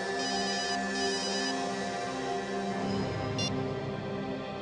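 A telephone ringing with a steady electronic ringtone, its tonal pattern sustained throughout at moderate level in an indoor setting, with no speech over it.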